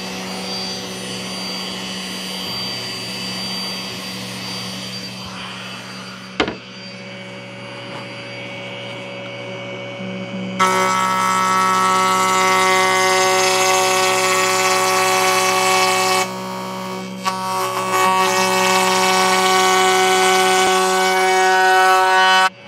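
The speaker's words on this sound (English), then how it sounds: "we'll take it over to the router table and cut our end caps down to size" A router table trims wooden end caps to size: a steady high motor whine holds at first, then a louder, rougher cutting roar joins in, runs for several seconds, and keeps going with only brief dips.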